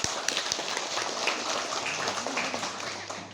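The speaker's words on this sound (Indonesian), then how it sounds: "Tepuk tangan dulu." An audience applauds at a school gathering, a dense, steady patter of many hands clapping throughout.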